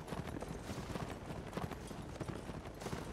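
Horses' hooves pound in a video game battle set in Middle-earth with Rohan riders, a faint, continuous rumbling clatter of galloping with rhythmic thuds and no voices.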